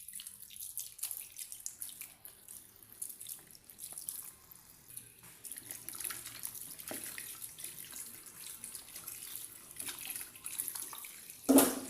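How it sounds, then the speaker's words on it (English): Tap water runs steadily while cassava is rinsed in a sink, a soft continuous splashing trickle close by with faint clinks, ending in a louder knock. "So I'm going to add a clean water and rinse this out."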